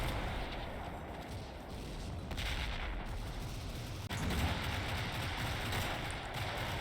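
Heavy gunfire from the WWII strategy game Combat Mission Fortress Italy, a dense, continuous roar of rattling shots and distant blasts that stays steady throughout with no talk.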